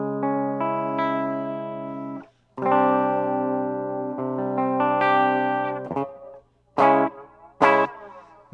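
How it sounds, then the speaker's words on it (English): Electric guitar chords played through an Electro-Harmonix Holy Grail reverb pedal on its flerb setting, each strum blooming into a long reverb tail with a slow flanging sweep as it decays, alternating with short plucked notes and gaps. "as it decays, it has a slow flange"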